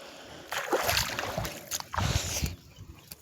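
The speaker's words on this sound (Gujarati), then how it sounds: "જો અત્યારે અહીંયાથી પાણી જાયરું છે।" Water rushing out through a broken embankment of a rain-soaked farm field, with sloshing, splashing bursts that swell and ease over a constant nearby watery wash, heard alone.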